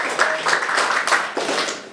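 A small audience claps at a talk in a club setting, a loose, uneven patter of hands with a few louder bursts, fairly close and without speech over it.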